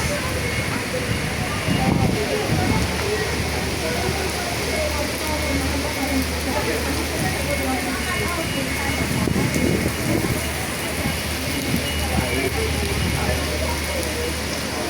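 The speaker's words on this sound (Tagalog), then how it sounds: "Lakas ng ulan." Heavy rain pours in Hong Kong, a loud continuous hiss of drops striking surfaces that runs throughout while a person talks over it now and then.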